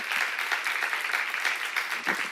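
A church congregation applauding, dense steady clapping with a slightly pulsing rhythm, fairly distant and soft, with no clear talk over it.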